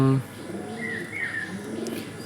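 Pet pigeons coo softly nearby, a couple of low throaty rolling calls with a few faint chirps, while a person talks over them.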